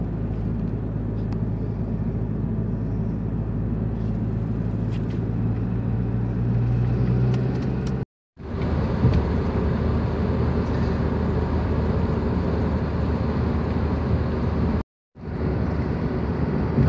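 Steady loud road rumble and wind noise fill the cabin of a car cruising on the A2 motorway in Poland, a continuous drone broken by two brief cuts to silence, with no talking.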